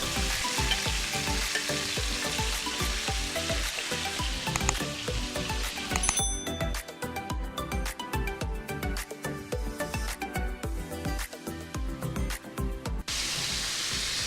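About 350 grams of chicken fries in a quarter cup of olive oil in a pan, producing a loud, dense crackling sizzle with constant popping and stirring clatter throughout.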